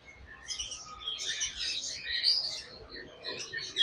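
A breeding pair of pineapple conure parrots giving repeated high, scratchy chirps and squawks in quick irregular bursts, fairly close in a quiet room, with no talk.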